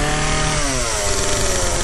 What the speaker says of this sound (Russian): Женя решил сделать, чтобы работала пила у Андрюхи.